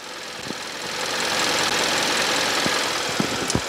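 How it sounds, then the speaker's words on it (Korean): A 2.4-litre gasoline engine in a second-generation Kia K7 idles close by, a steady, quiet, even mechanical drone with faint ticking and a few small clicks throughout. "바로 엔진 소리 한번 들려드릴게요"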